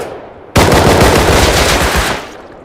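Sustained automatic M9 gunfire in the Rust video game, a dense, loud burst of rapid shots kicking in abruptly and hammering on for nearly two seconds before cutting off, with no talking.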